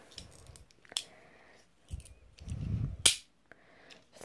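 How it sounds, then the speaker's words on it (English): A toy cap gun revolver fires caps in a few sharp, loud snaps spread across a few seconds, with low rumbling handling noise between them. "Cap gun, revolver."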